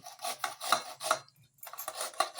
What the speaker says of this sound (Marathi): हे चांगलं किसणीवर किसून घेतलं पाहिजे